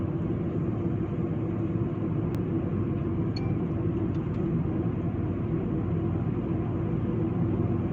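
A car cruises steadily toward a 600-metre tunnel, a constant broad road and engine rumble holding evenly throughout with no talk, only a few faint high ticks standing out above the drone.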